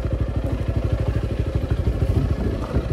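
A motorcycle ridden off-road along a jungle track, its engine chugging close by in a fast, steady pulse with some clatter, alone with no talk.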